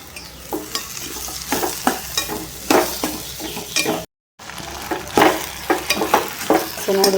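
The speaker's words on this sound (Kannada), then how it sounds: "ಈಗ ಇದಕ್ಕೆ ಸತಿಕೆ ಹಾಕಿ ಚೆನ್ನಾಗಿ ಮಿಕ್ಸ್ ಮಾಡ್ಬಿಟ್ರೆ ಅಲ್ಲೇ ರೆಡಿ ಆಗುತ್ತೆ" Cucumber palya with dill being stir-fried in tempered oil, rhythmic spatula scrapes and clatter over a steady sizzle, with a brief silent gap midway.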